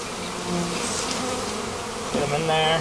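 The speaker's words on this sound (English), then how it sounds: "Shake these bees right in here." A dense, loud buzzing swarm of honey bees fills the space, droning steadily and swelling near the end as they are jostled while shaken into a hive box.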